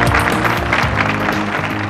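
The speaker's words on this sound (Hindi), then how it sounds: "इनके लिए तालियां बजा दीजिए" Audience applause rises for a team being introduced on stage at an Aksher Mela event, a dense, steady wash of clapping that holds throughout with a faint musical hum underneath.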